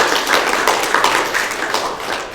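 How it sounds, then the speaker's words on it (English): A room of students at a game development club meeting claps for game pitches, a short burst of dense, steady applause at close range that holds for a couple of seconds. "can we just give like one more round of applause for Priscilla and Christian for amazing game pitches?"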